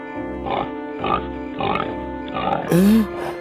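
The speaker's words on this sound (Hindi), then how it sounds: "अरे ये तो आदमखोर सुअर है।" A cartoon pig grunts repeatedly in rhythmic bursts, close and fairly loud, ending with a higher squealing cry.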